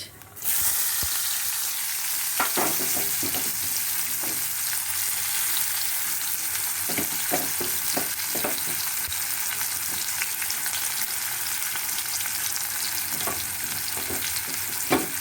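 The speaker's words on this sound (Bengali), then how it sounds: "এবারে আমি এখানে কালো জিরা ফোড়ন দেব আর তারপরে দেব পেঁয়াজ" Nigella seeds tempering and onions frying in hot oil for a Gondhoraj tilapia dish, a steady close sizzle throughout with occasional sharper spits and stirring clatter, no talk.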